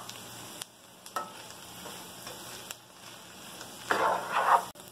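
Chicken pieces frying in a pan, a low steady sizzle with a few stirring clicks and a louder burst of crackling near the end, close and without talk.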